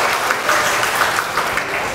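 An audience claps loudly and steadily for a teacher being introduced at a class's street-walk project performance, a dense, even wash of applause filling two seconds.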